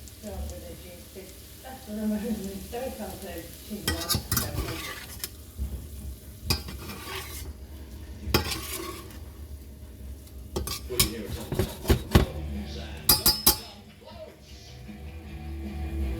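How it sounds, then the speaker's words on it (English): Sauce simmering down in a pan while schnitzels are cooked, a soft bubbling sizzle beneath bursts of stirring and utensil clatter against the pan, with a voice talking at times. "We'll just simmer it down just a whisker more."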